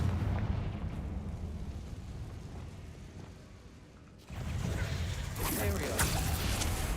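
A Confringo fire blast spell explodes in Hogwarts Legacy with a sudden loud boom that gives way to a dense rumbling roar, under steady game noise and a talking voice.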